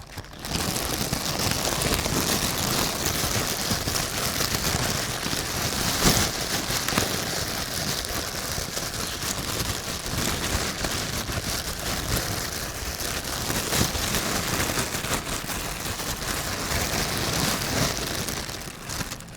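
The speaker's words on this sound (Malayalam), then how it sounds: "ഇതുകൊണ്ട് മഴ പെയ്ക്കും" A steady, dense patter like rain pattering on a surface, made by a plastic toy, continues without a break for the whole stretch, loud and close, with no voices.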